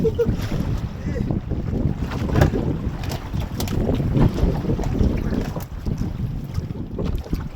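Strong wind buffets the microphone steadily over the rumble and wash of a boat moving across open water.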